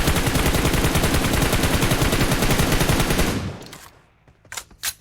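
Rapid automatic gunfire from a mobile shooter game blasts loud and continuous for about three seconds, then breaks off into a couple of isolated sharp shots.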